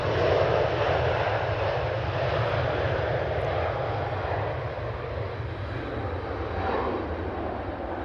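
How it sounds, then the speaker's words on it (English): A Singapore Airlines Airbus A350-900 departs from Manchester Airport, its engines holding a loud, steady broadband roar with a low rumble throughout, heard alone. "Beautiful departure there by the Singapore Airlines A350-900."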